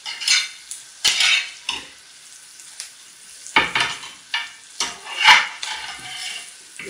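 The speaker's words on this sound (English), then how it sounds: "So I fry until my onion becomes transparent" Onion frying in plenty of butter in a pan, with intermittent bursts of stirring and utensil scraping against the pan over a steady sizzle, close and fairly loud, no talking.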